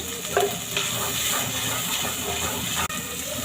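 Spice masala with coriander powder is stirred and fried in a pan, giving a steady, close sizzle with scraping stirs throughout and a brief clatter near the end. No one speaks.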